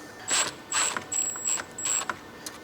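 Hand tools, a 2.5 mm and a 7 mm, tighten nylock-secured bolts on a control arm guide strake, giving five short, close bursts of sharp ratcheting clicks separated by brief pauses.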